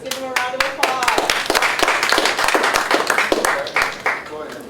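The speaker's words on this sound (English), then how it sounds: "Let's give them a round of applause." An audience claps for young entrepreneurs at a school career symposium, dense hand claps close and loud for several seconds, with voices calling out over the clapping.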